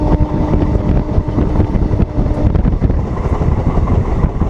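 Howrah-Adra-Chakradharpur Express train running along the line, a loud, steady rumble with rhythmic rattling and clanking close by, wind noise over the microphone throughout.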